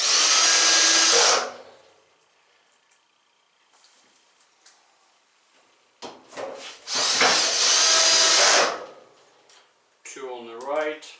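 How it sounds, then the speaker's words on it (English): Cordless screw gun driving screws into a Samsung dryer drum during a drum replacement, two loud whirring bursts separated by quieter handling clicks, with someone talking briefly near the end. "if you are using the screw gun like this"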